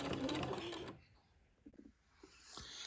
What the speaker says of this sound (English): this will take me a minute to get both leg hole openings sewn